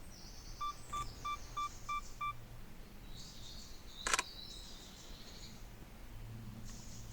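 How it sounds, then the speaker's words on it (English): A camera's two-second self-timer emits a row of evenly spaced short electronic beeps, then the shutter fires with a sharp click, outdoors in an old slate quarry with faint birdsong around. "Again, 2-second self timer, so here we go."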